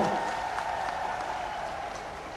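Applause fills a political event for a health minister and chief minister, a steady, moderately loud wash of clapping that holds evenly throughout with no voices standing out.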